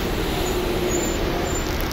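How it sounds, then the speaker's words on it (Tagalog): Passing cars and general traffic on a street in Rome near a palace: a constant, moderately loud roadway rumble and hiss without distinct individual pass-bys. "Mga sasakyan, mga dumadaan."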